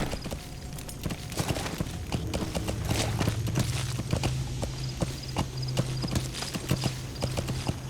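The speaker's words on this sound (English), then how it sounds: "Oh, I love how the horse moves." A horse's hooves clip-clop in a steady walking rhythm in the video game Metal Gear Solid V: The Phantom Pain, close and clear over a low in-game ambience.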